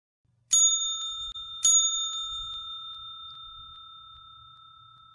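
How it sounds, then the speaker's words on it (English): Two bright pings from a service bell, struck about a second apart, each ringing out with a long, clear decaying tone in an otherwise quiet room. "I heard the ping of service bell."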